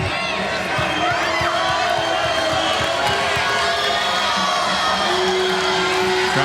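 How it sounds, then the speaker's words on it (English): Arena crowd at a men's college volleyball match between Hawaii and USC, a steady roar of cheering, whoops and shouts growing tense before a serve, loud and continuous with no talk. "now the crowd getting a little worked up, a little anxious here"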